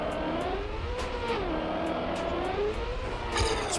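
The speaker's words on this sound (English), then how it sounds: "I'm just listening to the engine." Car engine in the racing game Trackmania, a steady droning tone rising and falling in pitch as the car accelerates and shifts, continuous and fairly loud with no talking.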